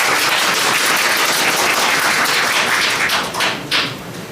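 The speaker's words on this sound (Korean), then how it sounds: "큰 박수 부탁드립니다." Steady, dense applause from a crowd at a book concert in Seoul, loud and continuous, tapering slightly near the end.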